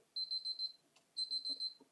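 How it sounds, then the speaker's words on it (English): An alarm beeps in two bursts of rapid, high-pitched pulses, each burst about half a second long with a short pause between, fairly faint, with soft background noise. "I'll try and stop this beeping."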